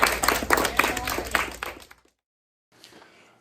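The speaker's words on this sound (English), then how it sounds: "Let's give a round of applause to these ladies up here." Applause for a group of women on stage during a board game show taping, lively clapping that tapers off and stops, followed after a pause by a faint brief patter.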